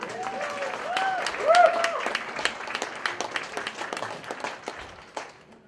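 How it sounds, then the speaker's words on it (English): Audience applause at a variety-show stage performance: sustained clapping from a crowd for several seconds, with some voices and cheers mixed in, slowly thinning toward the end. "Give them another round of applause."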